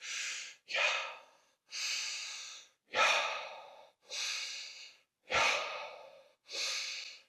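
Slow, audible breaths in and out, seven airy puffs in a steady rhythm with short pauses between, close and alone.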